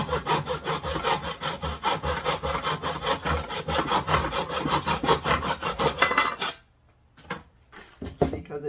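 Hand saw cutting wood in a miter box, rapid steady back-and-forth strokes loud and close for about six seconds, then stopping, followed by a few faint scrapes and knocks.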